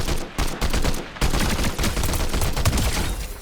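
Rapid automatic fire from a Combat Assault Rifle in a looter-shooter video game, a dense, continuous burst of loud shots with a couple of brief gaps early on, no talking.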